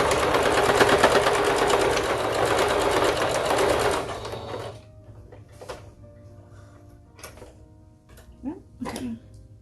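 A domestic sewing machine back stitching a seam on a bow wrap, running steadily and loudly for several seconds before stopping, followed by quieter handling clicks and thread sounds.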